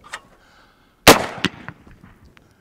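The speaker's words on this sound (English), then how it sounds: "now when I fire the gun again, it'll blow all that fouling out with those cards and wads" A muzzle-loading shotgun fires at a clay target: one sharp, loud close report about a second in, then a brief ringing decay and faint trailing rattles. A small tap comes just before.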